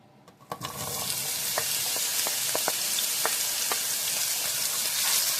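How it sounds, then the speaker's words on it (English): Rough chopped tomatoes, onions and garlic hitting hot avocado oil: a sudden burst into a loud, steady sizzle with scattered crackles and occasional spoon taps, close up. "we are just going to come in with our rough chopped tomatoes, onions, and garlic"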